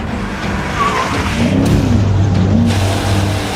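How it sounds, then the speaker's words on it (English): A BMW drifting during a long-distance drift record attempt: a loud, continuous engine drone with wavering revs and a rough tire-skid hiss, close and sustained throughout. "We have commenced drifting."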